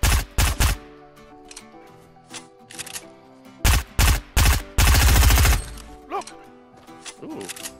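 SMG fire in Fortnite, loud close bursts of rapid shots in short volleys separated by pauses, with one long sustained burst near the middle and smaller clicks and effects between.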